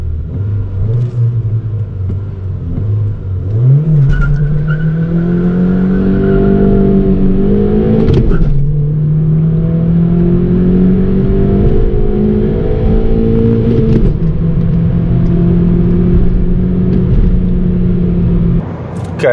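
A Honda Civic VIII diesel car accelerates steadily through the gears, its engine note climbing in pitch, dropping at each gear change and climbing again, a continuous loud rumble from inside the cabin.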